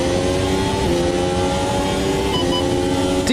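A Formula 1 car in the racing game Automobilista 2 at Imola holds a loud, steady high-revving engine whine close up, climbing in pitch at the very end.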